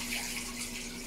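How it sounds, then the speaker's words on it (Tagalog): A master plumber pours water down a drain, a short, even gushing wash of running water with no talk over it. "At ito binubuhusan niya ng tubig."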